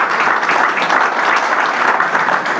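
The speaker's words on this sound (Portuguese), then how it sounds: "eu pedia da vossa parte um forte aplauso para todos os locutores" An audience at a liberty dinner in a club hall gives strong, sustained applause for radio announcers, dense clapping throughout with no talk over it.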